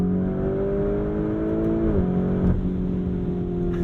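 Inside a 2021 Lamborghini Urus in Corsa mode, the engine drones steadily under load, then drops sharply at two quick gear shifts about half a second apart before the hum settles again.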